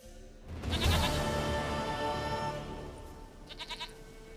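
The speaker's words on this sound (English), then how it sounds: "Goat of mine, dearest, sweetest goat." A goat bleats in The Witcher 3: Wild Hunt, one drawn-out wavering bleat close by, trailing off, then a few short soft clicks at the end.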